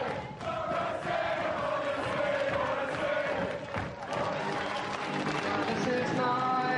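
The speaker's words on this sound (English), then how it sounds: "give yourselves a big cheer" A television studio audience cheers and claps loudly and without a break, a dense crowd roar with whoops and applause filling the whole stretch, at a 1990 Channel 4 show.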